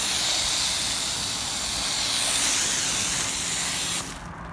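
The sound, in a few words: foam booster sprayed from a hose foamer onto a car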